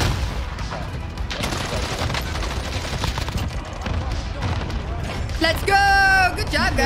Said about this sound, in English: Yo, I airstrike myself.